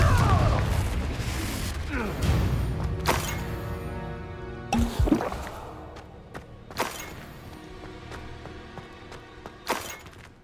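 Confringo explosive spell blasts in the Hogwarts Legacy video game, several sharp booming bursts with crackling debris and ringing tails, mixed with game sound effects.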